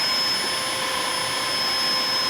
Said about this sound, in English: This airbed makes it sound like your pump is broken.